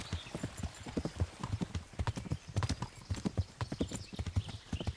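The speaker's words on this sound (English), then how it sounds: "Just letting the horse follow the road right now." Rhythmic clip-clop of horse hooves trotting on a hard road in the video game Kingdom Come: Deliverance, steady and fairly close, with a faint snort among the beats.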